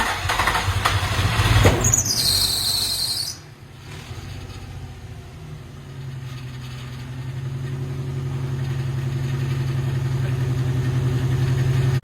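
An old vehicle motor of unknown earlier condition cranks with a high squeal, cuts briefly, then settles into a steady, close idle with a low even rumble that holds for the remaining seconds, no voices.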